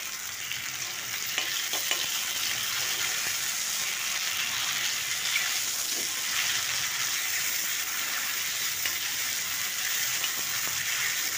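Steady, bright sizzling of battered radish fritters frying in hot oil, continuous and close, with faint clinks now and then; no talking.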